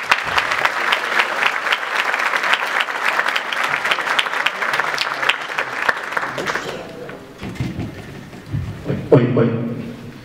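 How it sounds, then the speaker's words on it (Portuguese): A conference audience welcomes the speakers at a front-end developer event with a dense, sustained round of applause that fades out after about seven seconds, followed by some shuffling and a brief voice. "uma salva de palmas para eles."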